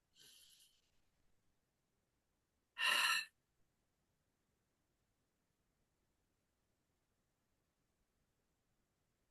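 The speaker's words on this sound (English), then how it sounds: "Take some nice deep breaths in." A single deep, breathy exhalation, like a long sigh, sounds close and alone in an otherwise quiet guided relaxation session, with a faint breath at the very start.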